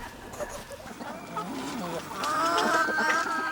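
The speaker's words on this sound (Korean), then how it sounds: "한편 옆마을의 김정수 씨 양계장에선 닭들이 하루의 시작을 알립니다." Chickens and roosters at a poultry farm at the start of the day, with overlapping clucking and crowing at moderate level that grows fuller toward the end.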